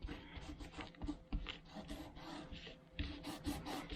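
Paper is rubbed by hand to press a crocheted heart onto a card, giving a faint, continuous scratchy friction with uneven strokes and no voices.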